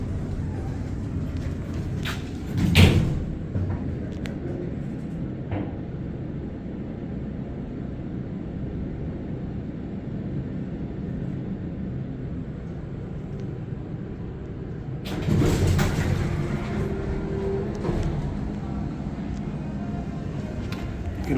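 Otis Lexan hydraulic elevator from 1978 riding and leveling, a steady low hum and rumble throughout, with a short clunk near the start and a louder shift toward the end as the car settles.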